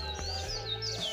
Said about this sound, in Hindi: सुबह पक्षियों की आवाज़ें, चहचहाने की आवाज़ें सुनाई देती है।